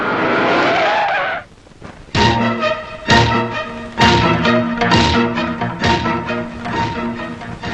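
Car tyres screech in a long skid as a vehicle brakes hard to a halt, followed by loud, rhythmic tonal screeching bursts close up.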